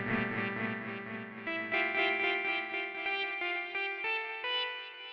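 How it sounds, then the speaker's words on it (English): A synthesizer plays a sustained, distorted tone through a delay effect, with stepped rising notes whose echoes repeat and layer over one another, steady and loud throughout with no voices. "See if we get some delay going."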